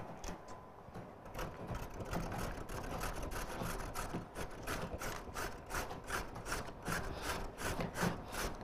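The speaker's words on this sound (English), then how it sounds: "using your box grater and the large holes, we grate the carrot" A carrot is grated on the large holes of a box grater, making a steady, rhythmic rasping with evenly spaced strokes. It sounds close and fairly quiet, and no one speaks.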